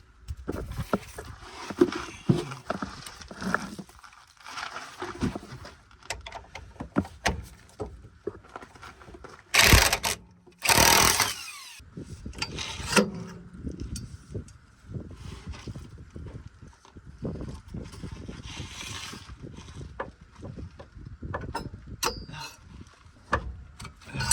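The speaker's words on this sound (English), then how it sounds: "we're just gonna take out one at a time, one of these 15mm bolts, and then we'll spin it around until we get them all off" Swivel socket on a socket wrench loosening 15mm bolts during car vibration diagnosis, a run of close metallic ratcheting clicks and taps in an uneven rhythm, with a couple of louder bursts midway and no talking.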